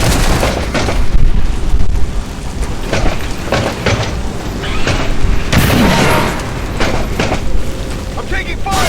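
Booming gunfire and explosions from the video game XCOM 2, loud and continuous with repeated heavy blasts and crackling shots, under intermittent talk.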